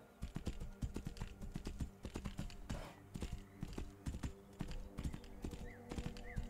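Horse hooves clip-clop in a steady, close rhythm in a Skyrim-like fantasy video game, with a brief whoosh partway through and no talking.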